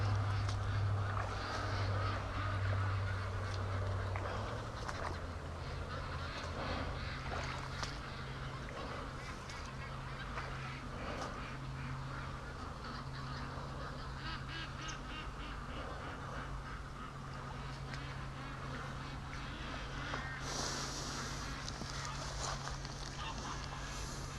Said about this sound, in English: I haven't heard a single sound other than the ducks